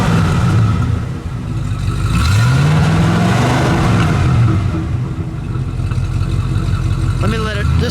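A 1957 Chrysler Windsor with a single exhaust, heard close up: a throaty idle swells into a rev that rises and falls, then settles back to a steady idle, with people talking over it.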